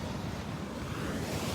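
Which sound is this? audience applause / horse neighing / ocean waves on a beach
ocean waves on a beach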